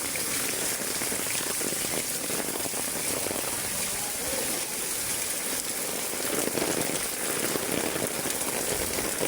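A downpour hammers a flooding resort area near a swimming pool, its thick, hissing wash of raindrops steady and close, swelling slightly near the end, with faint voices barely surfacing beneath it.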